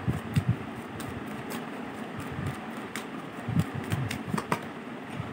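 Tarot cards are shuffled close by in a quiet room, with repeated soft riffling and sharp flicking taps at an irregular pace.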